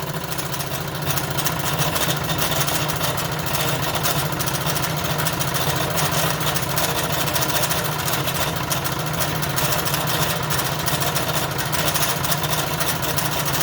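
A Wilesco D32 toy steam engine runs after its valve is opened, giving a steady, close mechanical chugging and hissing drone with rapid rhythmic knocking that continues without a break.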